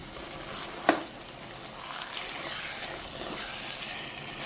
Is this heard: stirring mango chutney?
yes